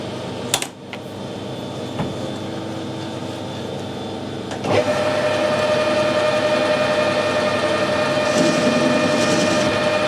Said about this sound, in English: Just going to put a little bit more chamfer on it